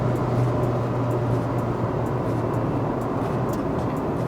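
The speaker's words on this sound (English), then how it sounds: "the CVT is a bit loud, but compared to the models before, no, this is a lot more refined and quiet" A 2019 Proton Persona drives along with its CVT transmission whining steadily under a constant road and engine drone, heard from inside the cabin at moderate loudness.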